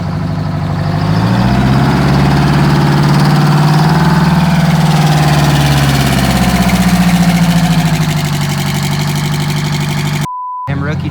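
A Detroit Diesel 8V71 two-stroke engine in a tour bus runs loud and close, its deep rumble swelling as it is revved then easing back toward idle, with a brief electronic tone near the end.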